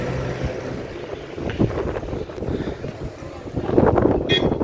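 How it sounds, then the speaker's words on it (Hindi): Strong mountain wind at Sissu in Lahaul buffets the microphone with a loud, gusty roar that swells and eases, rising harder near the end, with a faint voice underneath. "लेकिन हवाएं बहुत तेज़ी है"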